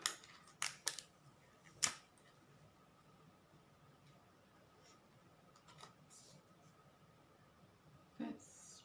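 Paper being cut and ripped off for a journal cover, heard as a few sharp close snips and tearing rasps spaced out between quiet pauses, with a short rustle near the end.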